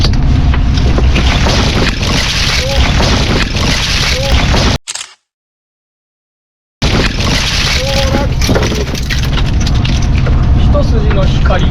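Wind buffets a microphone on a boat at sea while fishing for flounder, a loud continuous rushing roar that drops out briefly in the middle before returning.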